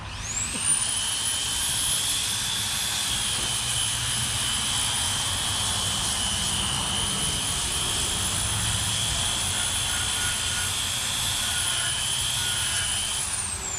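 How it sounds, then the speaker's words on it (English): A Makita finger sander runs unloaded at chainsaw-carving work, a steady high-pitched whine held close and constant throughout, with no talk over it. "Makita finger sander. Very much like this kid. No, I do not load it down."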